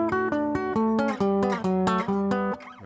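Guitar playing a harmonized country lick in double stops higher up the neck over a blues dominant seventh, a quick run of plucked two-note pairs with crisp attacks and ringing sustain, close and clear with no talk.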